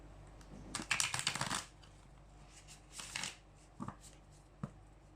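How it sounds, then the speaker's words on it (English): A Chinese tarot deck is shuffled by hand in a quiet room, a dense flurry of crisp riffling card flutters followed by shorter separate shuffles and a few single taps and slaps, close and clear, with no talking. "please place your two options as either sides as I shuffle."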